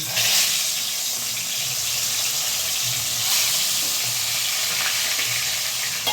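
Folui fish frying in hot oil in a pan, giving a steady crackling sizzle with faint bubbling pops that holds level and close throughout, with no talking.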